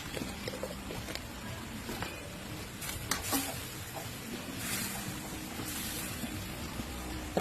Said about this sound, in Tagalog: Haluin natin muli ang ating pork.